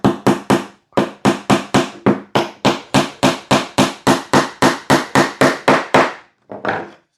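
A hammer drives a small gimp pin nail into a wooden Hoffman SN4 self-spacing National beehive frame, about twenty sharp, close, evenly spaced taps in quick rhythm, pausing briefly before a final softer strike.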